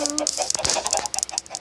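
Chickens in the Minecraft game give short, repeated clucks in a quick, uneven rhythm, close and fairly loud, with a few brief tonal calls at the start.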